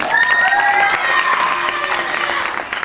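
An audience claps and cheers continuously at a live stage event in Galicia, with voices mixed into the applause before it fades slightly toward the end.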